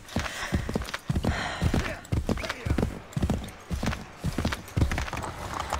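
Rhythmic hoof clip-clop of a horse moving at pace in Assassin's Creed III, with game-style sound effects and a voice talking over it.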